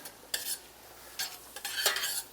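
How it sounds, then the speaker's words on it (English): Potatoes in a pot with oil just added get a quick stir, giving a few short, close scraping swishes of a utensil separated by pauses over a faint background hiss. "We add that in, give it a quick stir."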